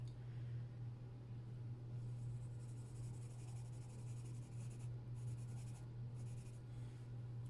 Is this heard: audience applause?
no